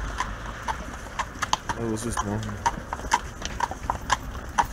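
Horses pulling a Fiaker carriage in wintry Vienna clip-clop steadily on the road, a close, regular hoof rhythm running throughout while a person talks over it.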